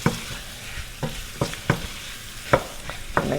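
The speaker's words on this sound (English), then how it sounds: "now I'm mixing all my seasonings together, my green seasonings with the curry" Green seasonings and curry stirred together in a sizzling pot for curry chickpeas, giving a soft background sizzle broken by about eight sharp spoon scrapes and knocks at uneven intervals, close and without speech.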